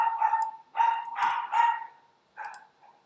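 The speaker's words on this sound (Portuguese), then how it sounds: "Minhas cachorros estão muito animadas hoje." Excited pet dogs barking indoors nearby, several loud, sharp barks in quick bursts with short pauses, ending in a softer yip.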